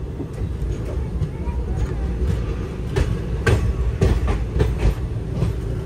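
A passenger train near Secunderabad runs on the rails with a steady rumble from the coaches. Clicks and clacks from the wheels strike at irregular intervals, close by, and a voice talks over part of it.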